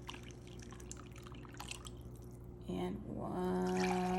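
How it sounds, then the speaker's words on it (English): Regular tap water is poured into a bowl of eggless, dairy-free lemon cake mix in a home kitchen: faint drips and small splashes under a low hum, then a steadier trickling pour swells near the end, with a brief spoken word. "To that, we're adding 2 cups of just regular tap water."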